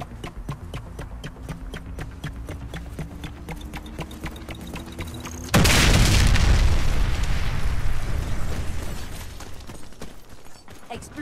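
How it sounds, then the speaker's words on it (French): A bomb detonates in the online shooter Warface, a sudden loud blast with a rumbling tail that cuts through a steady ticking, clattering background. "Explosion de la bombe."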